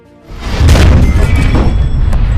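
A heavy boom of anti-tank rifle fire erupts after a brief quiet moment, followed by a sustained loud rumbling roar of tank gunfire and blasts.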